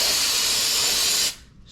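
A spray can blasts a continuous, loud hissing jet of cleaner to flush old oil during a high-pressure fuel pump replacement on a B8 Audi S4, lasting over a second before cutting off abruptly.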